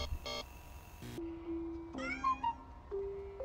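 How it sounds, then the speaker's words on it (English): A kitten meows several times in the Amanda the Adventurer video game, with high, clear tonal cries that rise and fall. They come over a soft game background and are mixed with brief electronic tones. "This kitten is all by herself."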